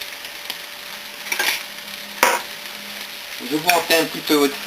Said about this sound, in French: vous retournez vos steaks et vous assaisonnez avec les condiments